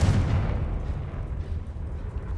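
A Confringo blasting spell explodes in Hogwarts Legacy: one deep, rumbling boom that rolls on and slowly fades over about two seconds, with no voices.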